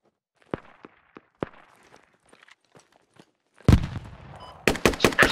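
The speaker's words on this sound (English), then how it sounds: "Suppressing fire." Suppressing gunfire in the Squad video game: a scatter of sharp, distant single shots, then louder close bursts of rapid automatic fire near the end.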